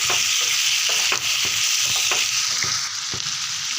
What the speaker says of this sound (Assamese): ইয়াতে লোকেল চিকেনখিনি দি ভালদৰে ভাজি ল'ম।